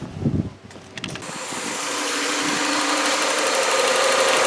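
A Honda engine on a bypass ignition system sputters, then catches and settles into a steady, loud running drone with a rising hum that holds to the end.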